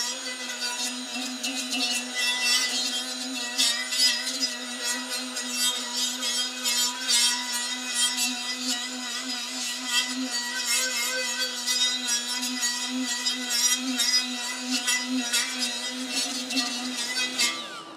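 Milwaukee M12 FUEL cordless right angle die grinder running a Scotch-Brite roll-lock pad at low speed, a steady close whine with a strong tonal hum and a light, pulsing scuffing rasp against the surface, continuing alone until it spins down at the end.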